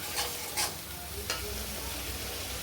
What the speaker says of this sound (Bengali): শিল ধোয়া জলটা দিয়েও আমি একটু ভালো করে কষবো মশলাটা